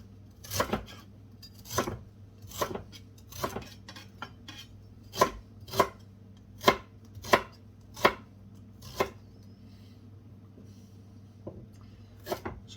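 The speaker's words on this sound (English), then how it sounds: "I'm just going to give it a helping hand by chopping it up a little bit." A knife chops ginger on a board in a curry kitchen, about a dozen sharp, close thuds in a loose, uneven rhythm with no talk.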